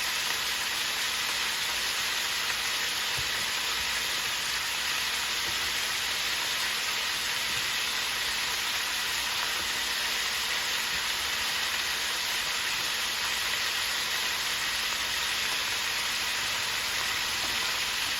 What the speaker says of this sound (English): Now we are going to add our onions